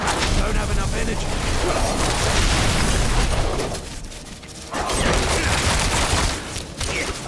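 The Barrage skill attack in Diablo IV unleashes a loud, dense volley of rapid impacts and booming bursts, dipping briefly in the middle before the onslaught resumes.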